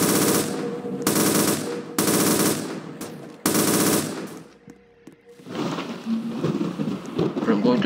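Gunfire in the Roblox game SAKTK comes as several loud bursts of rapid automatic shots separated by short gaps, followed by quieter rumbling game sounds.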